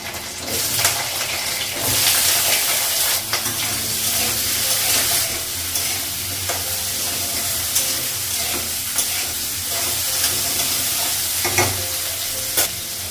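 Green chillies fry in hot oil in a pan, with a steady broadband sizzle and repeated scraping stir strokes running throughout, close and fairly loud, with no talking.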